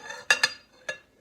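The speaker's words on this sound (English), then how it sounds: "now you're going to crack it in" An egg cracked against a bowl while baking chocolate chip cookies: two quick sharp taps close together, then a third lighter tap, quiet and close with no talk.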